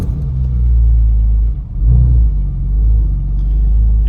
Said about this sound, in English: So I can fire up my car